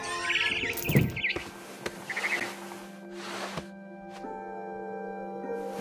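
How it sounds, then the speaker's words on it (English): Barn swallow chirps from the video game What Remains of Edith Finch, a few short high twittering bursts early on, over a steady low ambient hum and soft background music. "Then I heard chirping outside my window. It was a barn swallow going back to her nest."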